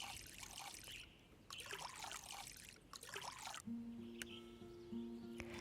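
Plants are watered in the cozy witch game Witchy Life Story, with bursts of splashing, trickling water pouring in several pulses, then gentle chime tones near the end.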